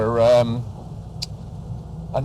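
A low engine rumble and droning hum, with heavy vibration, fill the interior of a classic Mini, with a voice speaking briefly at the start and again at the end.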